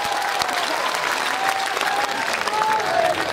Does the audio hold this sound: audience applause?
yes